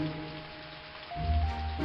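Steady light rain patters on surfaces at a campsite with a tent, a soft continuous hiss with a low hum rising slightly near the end.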